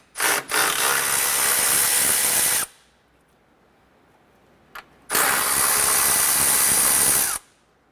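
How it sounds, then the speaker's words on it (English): A power tool with a 10mm socket backs out bolts on a 2008-2012 Honda Accord condenser fan, loud and close, with two long steady whirring bursts separated by a pause and a brief click. "Use a 10mm socket and remove the two bolts on the top."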